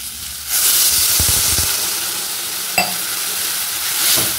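Water poured into a hot pan of frying bitter vegetable curry bursts into a loud, close sizzle and hiss that holds steady and then slowly eases, with a single clink partway through.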